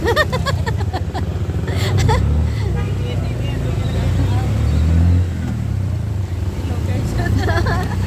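Ride on an e-bike through a rainy street in the Philippines: a steady low motor and road rumble runs throughout, with people chatting close by over it.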